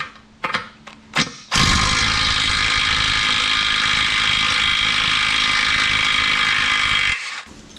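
A ratchet backs off a 21 mm nut on the rear axle of a 1999–2004 Jeep Grand Cherokee: a few short clicks, then a long, loud, continuous rapid ratcheting whir close by that stops abruptly.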